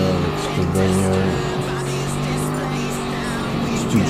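A race car in an FIA GT racing video game holds a steady, droning engine note with shifting pitch and faint tire noise, while a voice talks over it throughout.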